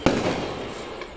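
Firecrackers burst in celebration of an RCB cricket win in Mudalagi: one sharp close bang opens, followed by a dense crackling wash of smaller pops and a second faint report near the end.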